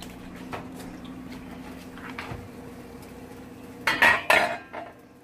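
Menudo tripe (pancita) going into a metal cooking pot makes a quiet kitchen clatter that builds to two loud, sharp metallic clanks and a wet thud near the end, with no voices.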